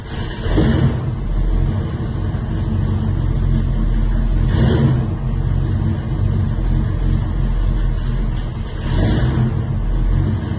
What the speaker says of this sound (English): All right, so now it's idling fine.